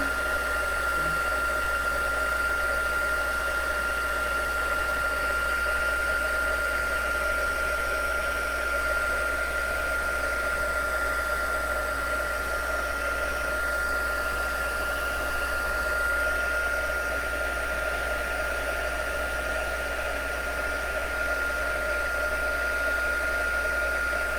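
A heat tool blows a steady, unbroken whirring hum for over twenty seconds while embossing powder is melted on a handmade greeting card, with no voices over it.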